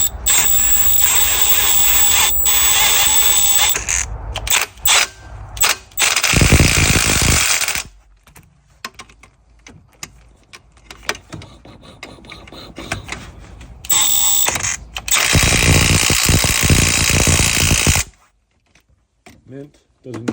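A cordless impact wrench tightens alternator bolts on a 2000 Chevy Silverado GMT800 pickup: loud, close, rattling hammering bursts lasting several seconds each, separated by a quieter gap, with talk mixed in.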